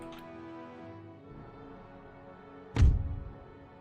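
A cannon shot strikes its target in the Empire: Total War strategy game, one sudden heavy thud with a rumbling low-end decay that stands out loudly over steady background music.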